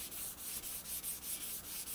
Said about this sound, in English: take some of the Super Acrylics 360 grit with a soft interface pad on my sanding block